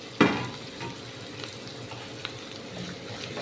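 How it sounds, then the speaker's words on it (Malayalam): About ten small onions drop into hot oil with curry leaves, setting off a sharp burst of sizzling that then settles into a steady, quieter crackle of frying, close by with no speech. "കറിവേപ്പില ഇട്ടുകൊടുത്ത് കഴിഞ്ഞാൽ നമുക്ക് ഇതിലേക്ക് ഒരു പത്ത് ചെറിയ ഉള്ളി ഇട്ട് കൊടുക്കാം"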